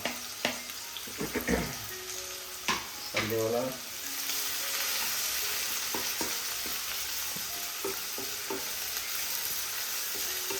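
Sliced onions fry in a pan: a few metallic clinks and stirring scrapes, then a steady, close hiss of sizzling oil that carries on to the end.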